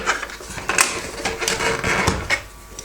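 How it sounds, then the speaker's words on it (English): Screws are worked out of the casing of a Tronic Power Cube KH3106 12V multi-voltage battery pack, giving quiet, irregular ticks, clicks and scrapes at close range. "Get the rest of these screws out."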